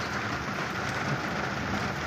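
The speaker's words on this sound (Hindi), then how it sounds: "ये दो नंबर पर वाइपर चल रहा है" Car windscreen wipers run at the second speed setting during rain, a steady wash of rain and swishing over the glass heard from inside the car, with no voices.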